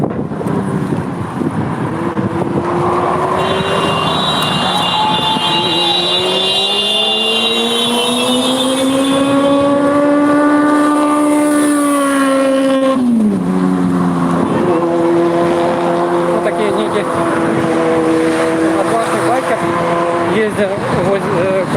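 A traffic police car engine drones loudly at a peace march in Mogilev, its steady tone rising and falling as it revs and shifts, with voices faintly underneath.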